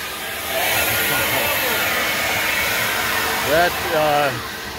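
Ego battery backpack leaf blower pushing piled leaves, a steady loud airy whoosh running throughout, with a voice briefly speaking over it near the end.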